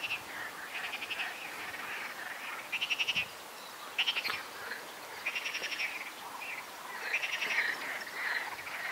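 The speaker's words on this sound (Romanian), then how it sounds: "Acum aud ceva broaște pe aici." Frogs croak after rain in pulsing bursts of rapid trilling calls, several rounds at a steady distance over quiet ambient noise, with no talk.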